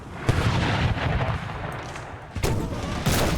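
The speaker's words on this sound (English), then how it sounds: "They're getting hit hard, though, by artillery." Artillery fire in a Napoleon Total War battle at Hanau, 1813, with sharp cannon reports and booms cutting through a dense, loud roar of distant gunfire and battle noise, no speech.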